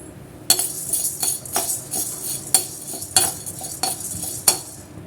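Pepper, toor dal and dry ginger dry-roasting in a hot kadai are stirred with a metal spoon, producing about eight sharp, rhythmic scraping clinks, loud and close with no talk.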